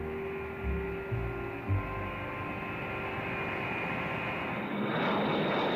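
B-52 bomber engines give a steady, loud, droning jet roar that holds for several seconds with little change, swelling slightly toward the end.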